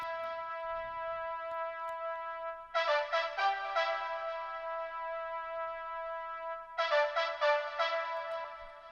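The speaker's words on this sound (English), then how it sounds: "So yeah, that's how the brass sounds like." Brass sample for an afro house track with a high note added, playing sustained, clean, resonant chords in two stabbing phrases separated by held tones, alone and fairly quiet.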